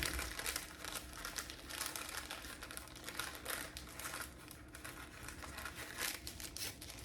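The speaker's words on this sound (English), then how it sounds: "And roll in the wax paper." Chocolate chip cookie dough is rolled up in wax paper, giving a close, continuous crinkling and rustling with small crackles throughout and no voices.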